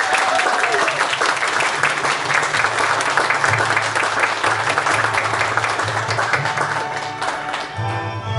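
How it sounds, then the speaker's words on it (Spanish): Loud, sustained applause from a crowd at a high school senior graduation ceremony in Chile, continuous clapping that tapers slightly toward the end, with faint voices murmuring underneath. "Aplauso."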